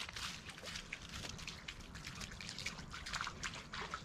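Floodwater from snowmelt and heavy rain trickles and dribbles steadily near a homestead cabin, a continuous close, soft liquid patter with no talk.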